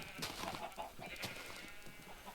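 Video-game chickens on an egg farm cluck in a soft, scattered flurry of short calls, fairly faint and continuous with no talking.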